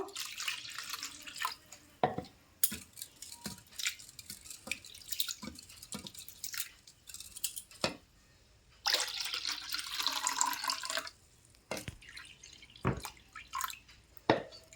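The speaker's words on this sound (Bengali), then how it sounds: "সেগুলো ভালো করে কিন্তু ধুয়ে নেব আমি আবারও ভালো করে ধুয়ে নেব" Flattened rice (chira) being washed in water, with intermittent splashing, dripping and sloshing, a longer stretch of pouring water in the middle, and sharp bursts of handling noise, quiet and close with no talking.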